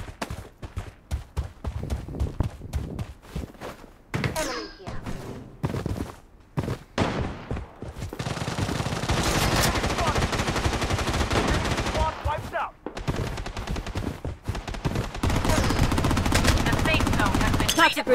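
Rapid AKM rifle bursts in the battle royale game Blood Strike, loud and sustained with dense automatic fire and short pauses between strings of shots.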